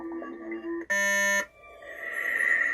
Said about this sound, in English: Sometimes that particular beep, when it does that, is because I didn't add a file in correctly